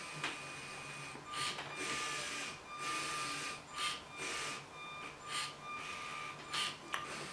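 A LEGO Spike Prime printer runs its program with a steady mechanical whir and hum, broken by repeated short bursts of motor and scraping sound, fairly quiet and close, with no talk.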